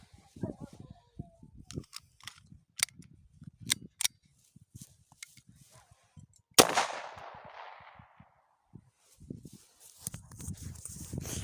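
Several sharp clicks and snaps, then one loud pop with a hissing tail, like a toy pistol firing nearby; quiet rustling around it.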